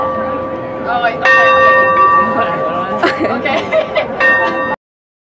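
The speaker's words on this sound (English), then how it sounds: "Bell right there, it was awesome" A bell rung by pulling its cord or rope, with sustained ringing tones carrying over people chattering and chuckling nearby.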